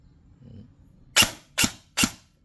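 An upgraded EC 342 TAN airsoft gun fires three sharp, loud single shots in quick succession, about half a second apart, during a chronograph speed check after a short quiet lead-in.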